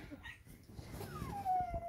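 A dog whimpers softly, a thin rising-then-falling whine over quiet background rustling.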